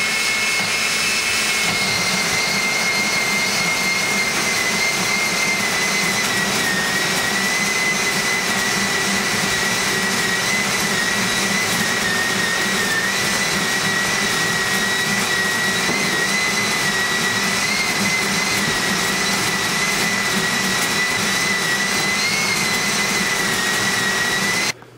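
A KitchenAid stand mixer with a grain-grinding attachment grinds whole multi-grain kernels for bread, a loud continuous whine and motor roar that holds steady for the whole stretch before stopping abruptly at the end.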